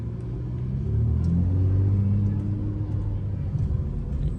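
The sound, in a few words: Chrysler 300 exhaust crackles while driving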